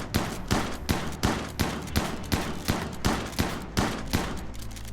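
Rapid gunfire in the video game RimWorld, a steady series of about a dozen sharp evenly spaced shots, loud and close with no voices over them.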